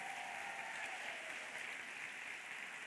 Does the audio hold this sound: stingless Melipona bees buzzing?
no